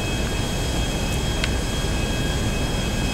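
Nimbus private luxury jet in GTA 5 flying at altitude, a steady loud engine roar and rushing wind that holds evenly throughout, with no voices.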